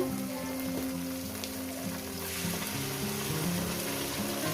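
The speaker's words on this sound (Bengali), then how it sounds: "পেঁয়াজটাকে আমি দু তিন মিনিট আমি ভেজে নেব" Onions frying in a pan for a Kajol Gouri fish curry, a steady close sizzle and spatter running throughout with no talk.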